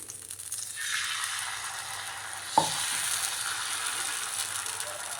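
Bread dosa batter is poured onto a hot, lightly oiled griddle and starts to sizzle, a steady close hiss that continues with a brief click partway through, no talk.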